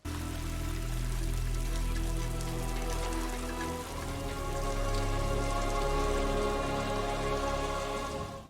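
Heavy downpour from a film scene in which a boy digs up a robot, a steady dense hiss of rain on surfaces that is loud and continuous throughout, with no talk.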